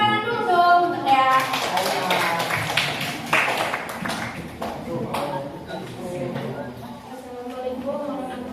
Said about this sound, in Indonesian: Tepuk tangan dulu dong untuk ya